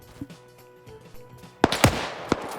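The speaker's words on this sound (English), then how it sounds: "Grenades going out, knocking people out." Grenades burst in a World War II first-person shooter battle, a cluster of sharp, close explosions arriving late after quieter distant rumbling, with one more blast near the end.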